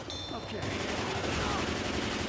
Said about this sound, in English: Keep on shooting them.